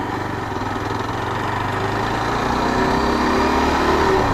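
A Yezdi Adventure motorcycle engine hums steadily at close range, its pitch rising slightly as the revs are matched on a downshift. The engine plays alone with no voices.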